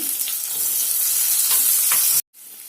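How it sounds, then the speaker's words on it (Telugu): Sliced onions and green chillies frying in a pan for an okra and tomato curry, a steady close sizzle with a few brief stirring scrapes, cutting off abruptly near the end. "ఉల్లిపాయలు వేసుకోండి ఉల్లిపాయలు కూడా వేగాలి"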